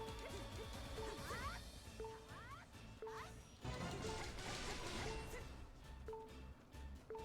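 Weak point smash attacks in Hyrule Warriors, a run of heavy crashing hits and whooshing strikes with short game chimes between them, loud and repeated against busy battle sounds.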